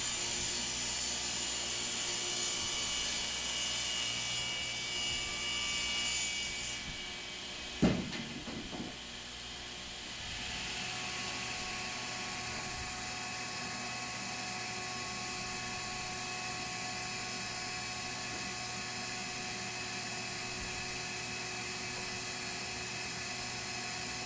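A table saw jointing a board edge, a steady whining hum of the running saw with a short louder cutting burst near the middle, then the motor keeps droning alone.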